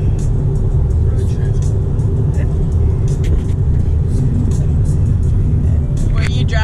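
Car driving on a Texas road trip, a steady loud engine and road rumble heard from inside the cabin, with faint rattles and small clicks on top.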